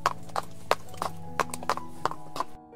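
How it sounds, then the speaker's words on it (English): Hooves clip-clop as a sound effect, about eight sharp, fairly even knocks from a walking horse, close and clear over a soft sustained musical tone, cutting off near the end. "Annie rode her special horse, Falada, and the maid rode a pony."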